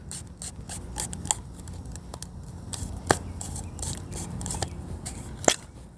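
Plastic cap of a Hunter PGP sprinkler head being unscrewed by hand, giving quiet clicking, scraping ratchet-like turns in short bursts with small louder clicks scattered through.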